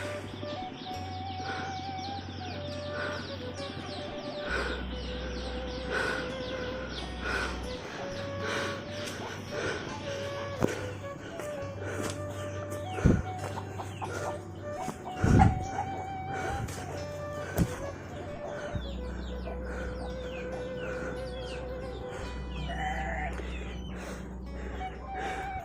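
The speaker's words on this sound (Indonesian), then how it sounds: "Ayamnya banyak sekali." Chickens and roosters in a mountain-foot village, with crowing and scattered clucking rising over a steady outdoor background of flowing water, a few sharp knocks breaking through now and then.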